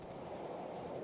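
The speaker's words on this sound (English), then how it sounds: "trains on the London Underground are not this fast" A London Underground train in the 007 game The World Is Not Enough rumbles past as a steady, dense roar, constant and fairly close throughout, with no talk over it.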